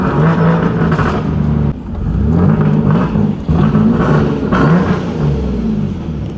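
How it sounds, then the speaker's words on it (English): A Toyota 2JZ-swapped car's engine revs hard and close, dropping and surging again with each downshift, a loud throaty rumble throughout. "And here comes the downshifts."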